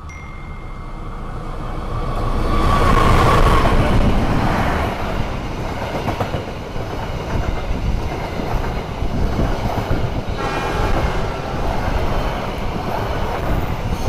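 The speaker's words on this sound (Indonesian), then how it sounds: "Di sini kita akan tunggu bersilang dengan kereta api Ranggajati dari Cirebon tujuan Jember." An Indonesian passenger train, the Ranggajati from Cirebon to Jember, rumbles past nearby, loud and steady, with rattling wheels and brief squeals as the cars roll by.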